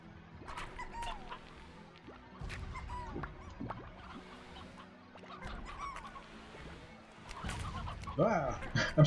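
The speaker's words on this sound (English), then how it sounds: "I'm surprised the explosions don't kill the chickens, honestly." Chickens cluck repeatedly amid scattered explosions in the Slime Rancher video game, sharp bursts cutting through busy game noise, with a louder cluster near the end and a voice talking in places.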